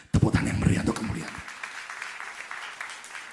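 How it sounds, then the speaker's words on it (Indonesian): Applause from a church congregation at a New Year's Eve service, with a voice speaking loudly over the start, then clapping carries on alone as a steady, moderate patter that slowly thins. "Tepuk tangan yang meriah untuk kemuliaan."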